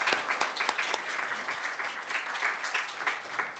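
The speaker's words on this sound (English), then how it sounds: "big, big applause to them." Applause from an audience at an expert meeting on resilient, sustainable urban development in Asia, a dense, steady wash of clapping from many hands, moderately loud and sustained with no voices over it.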